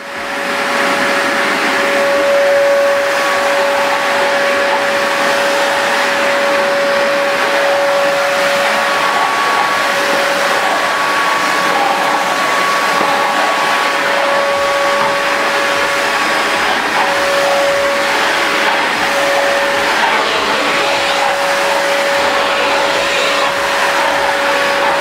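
A Guild 30 litre wet and dry vacuum cleaner runs continuously and close by, a loud, steady high-pitched whine and airy roar that holds for the whole stretch with no voices over it.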